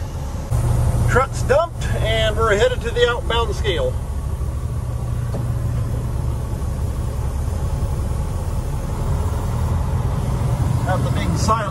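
A grain truck hauling beans drives toward the outbound scale, its engine a steady low rumble heard from the cab the whole way. A person talks briefly over it near the start.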